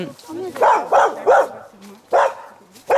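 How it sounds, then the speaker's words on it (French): A dog barks in short separate woofs, around five of them at an uneven rhythm, close and fairly loud over a quiet background. "Évidemment un beau chien."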